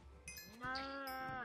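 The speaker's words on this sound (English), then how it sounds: "let's breed all the cows" A cow in Minecraft lets out a single drawn-out moo, close and clear, rising then holding, with faint background game sounds.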